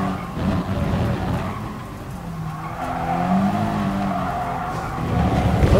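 Racing car in GT Sport skidding and crashing off the track during an amateur league race, a steady roar of engine and tire scrub with a rising whine in the middle and a louder burst near the end, with no talking.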